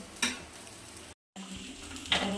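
A flatbread roti crisping in a hot pan, with a steady close sizzle, a couple of brief scraping bursts and a short dropout midway.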